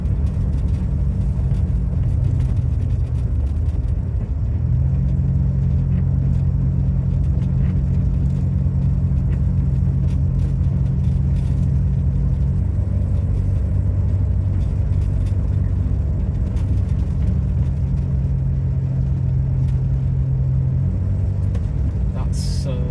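A 1967 Humber Hawk saloon drives along a country road, its engine a steady low drone with shifting tonal hum as revs change, loud and continuous, with someone talking over it throughout.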